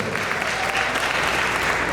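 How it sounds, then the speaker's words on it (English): An audience at a Kwanzaa celebration claps steadily and loudly, a dense, even wash of applause from a crowd that holds for the full two seconds without a break. "Now give your neighbor a hand for their purpose."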